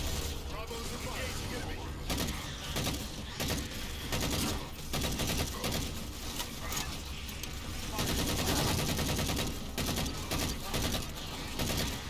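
Rifle fire in the sci-fi shooter Halo 4: dense, rapid bursts of automatic gunfire layered with mechanical clatter and explosions, loud and continuous throughout the battle, with voices talking underneath.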